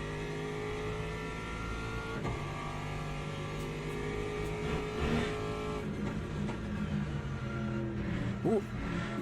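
A Ferrari race car in Le Mans Ultimate, racing online at dusk, roars loud and steady under full throttle as its engine pitch climbs and shifts, with a brief rising whine near the end.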